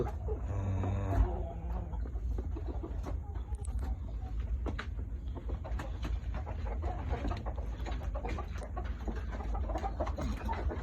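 Chickens cluck and a rooster calls at a fighting-cock farm, close and continuous over low rumbling background noise, with scattered bird sounds throughout.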